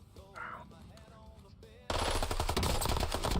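Rapid automatic gunfire at a firing range in the Warzone video game, a loud sustained burst of shots that abruptly starts after a quieter opening with a faint voice talking.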